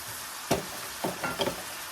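Garlic hitting a hot pan with seafood gives a steady close sizzle, broken by three short scraping stirs, no talking.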